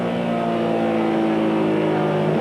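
A 1994 NASCAR Busch Grand National race car at Darlington Raceway, engine heard from onboard with a steady, loud droning roar and harmonic whine that eases slightly as the driver backs off entering a turn.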